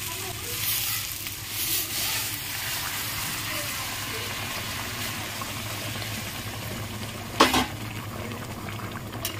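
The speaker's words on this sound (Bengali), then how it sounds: "গরম জল বসিয়েছিলাম, গরম জলটা দিয়ে দেবো।" Hot water going into a sizzling paneer, pea and potato curry, producing a steady loud bubbling hiss with a brief sharp splash late on, no speech.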